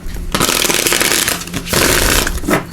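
Oracle cards being shuffled up close, two loud bursts of rapid riffling flutter separated by a brief pause, with no voices.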